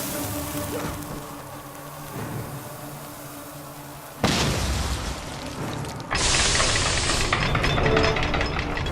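Bombs detonate in the fantasy game Guild Wars 2: two heavy, booming blasts land a couple of seconds apart, each one louder than the low mechanical ambience that came before.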